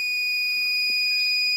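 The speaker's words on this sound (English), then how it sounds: "buzzer on" A buzzer on a solar-powered grass cutter robot run by a microcontroller sounds as a steady, loud, continuous high electronic tone held for the whole moment, with no voices.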